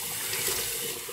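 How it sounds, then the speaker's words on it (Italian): Water running and splashing at a sink as a face is rinsed with cold water after a shave, a steady close wash of liquid noise with no talking. "sciacquiamo il viso."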